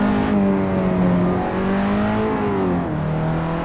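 A 300-horsepower car engine revs hard on the Faveyrol race circuit, a loud sustained drone whose pitch climbs and dips as the driver works through gear changes, with no voices over it.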